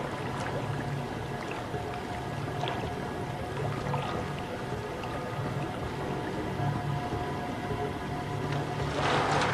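Water spills steadily from a magician's underwater escape chamber onto the floor, a continuous rushing splash that holds an even level throughout and swells slightly at the end, with no voices.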